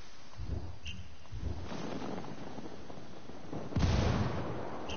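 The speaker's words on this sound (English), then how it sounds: "Taking heavy fire." Heavy gunfire in a video game battle, scattered booming shots and bursts over a rumbling background, with a louder blast near the end.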